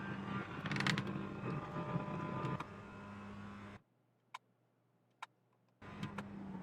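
A Mazda MX-5 Global Cup race car at Summit Point Raceway in iRacing, its engine drone stepping down in pitch with a gear change before cutting to near silence broken by two sharp clicks, then resuming.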